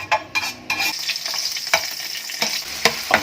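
Food cooking in a pan, a close sizzle with brisk scraping stirs and sharp clanks of a spoon against the metal at an uneven rhythm, and no voices.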